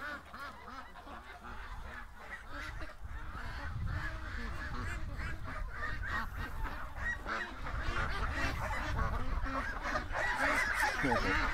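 Flock of pet ducks kept in during light drizzle, quacking loudly and continuously, many overlapping honking calls close by that build in intensity, with faint rain in the background.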